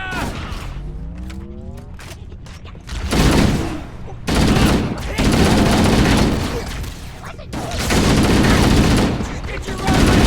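Bursts of rapid automatic gunfire and heavy weapon shots rattle loudly in the Halo CE Anniversary video game, in several sustained volleys with brief pauses between them. Shouted voices sit under the shooting.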